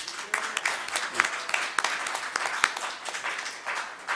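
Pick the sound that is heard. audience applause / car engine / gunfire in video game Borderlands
audience applause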